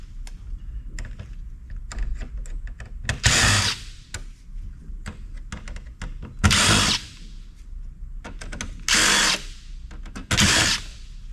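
Power driver backing screws out of a densely populated telecom circuit board, four loud whirring bursts of a few seconds each between lighter clicks and handling clatter, close up with no talk.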